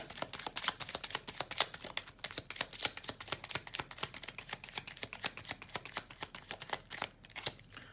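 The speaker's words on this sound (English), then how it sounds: "so I'm gonna shuffle again" Tarot cards being shuffled by hand, a steady run of rapid, crisp riffling slaps repeating close up for several seconds.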